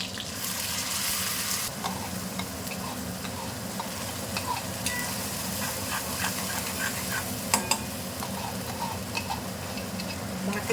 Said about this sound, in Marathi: पहिला हा कढीपत्ता आहे तो हो, घालते आणि मग हा वाटलेला जो मसाला आहे तो घालून घेते